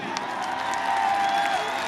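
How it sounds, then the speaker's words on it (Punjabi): Crowd at a kabaddi tournament applauding and cheering, a steady wash of clapping and voices sustained throughout at moderate level with a few whoops. "ਤਾੜੀ ਇੱਕ ਹੋਰ ਮਾਰ ਦਿਓ"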